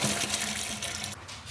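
Water runs steadily into a wash bucket from a hose, a close, continuous splashing rush that thins briefly near the end.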